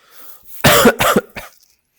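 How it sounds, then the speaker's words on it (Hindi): A man coughs in a quiet room: a short cluster of two or three close, rough coughs with a faint trailing throat sound. "सॉरी फॉर दिस खांसी, खांसी हो रही है बस थोड़ी सी"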